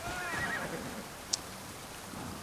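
A horse in the video game Assassin's Creed Odyssey lets out a clear neigh, with faint hoof clip-clop and a sharp click over a low game background.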